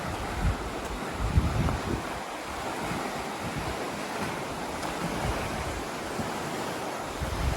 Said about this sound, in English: Bit of rapids here